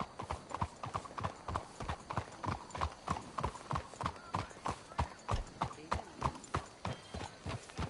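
Horse hooves clip-clop at a steady walking rhythm in a PS4 video game, a continuous run of evenly spaced hoof strikes, fairly close, with an occasional faint whinny beneath.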